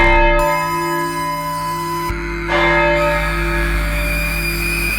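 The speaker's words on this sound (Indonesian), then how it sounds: "Suara lonceng kecil," A small bell rings slowly in an eerie horror setting, its clear sustained tones hanging and overlapping, loud and alone with no talk.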